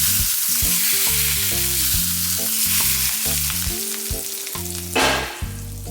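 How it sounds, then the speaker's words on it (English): Dried red chili and cumin seeds sizzle in extremely hot oil for a restaurant-style dal tadka, a loud, close, crackling fry with a sharper burst near the end. "dried red chili and some cumin seeds in extremely hot oil just for a few"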